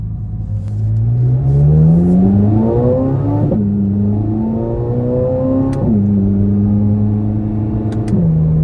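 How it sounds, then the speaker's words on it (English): A 2024 Chevrolet Corvette Z06 Convertible's V8 heard from the cabin on a test drive, loud and close, revving up through gears with rising pitch sweeps and brief drops at each upshift, a steady rumbling drone underneath. "Now starting the test drive in this Z06, with that V8 right behind me, the sound in here is visceral"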